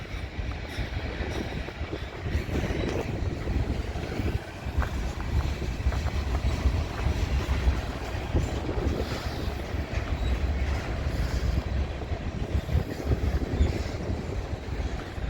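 A Dakota, Minnesota and Eastern freight train rolls past in Minneapolis with a continuous low rumble and rattle of wagons, mixed with gusty wind noise on the microphone, steady for the whole stretch.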